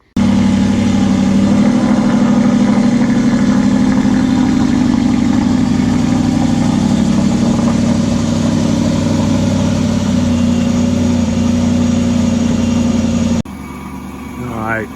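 An Aston Martin's engine runs at a steady idle after suspension lowering work, giving a constant deep rumble that cuts off abruptly near the end, leaving a quieter background.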